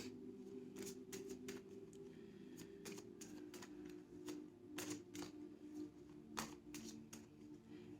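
Tarot cards are shuffled in short riffling bursts, several quick crisp flutters spaced irregularly, close by with a low background hum.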